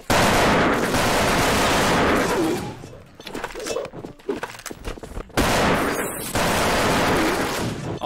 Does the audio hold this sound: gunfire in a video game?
yes